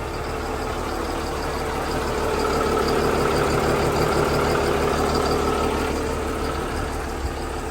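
A Cummins 12-valve diesel engine in a fast 4x4 truck idles steadily after restarting, a continuous even rumble with a slight swell midway, close and with no voices.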